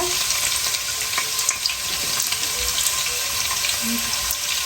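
Sliced onions fry in hot oil for chicken biryani with a dense, constant sizzle and crackle up close, and faint stirring knocks now and then.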